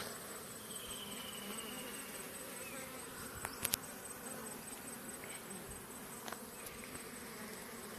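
A swarm of bees buzzes around a hive on an electric pole, a steady droning hum with a few sharp clicks and knocks close by.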